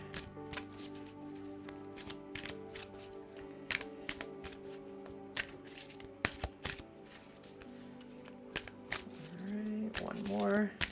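Tarot cards are riffled and shuffled in a series of crisp, close bursts, with a short snap of cards near the end and quiet room tone between.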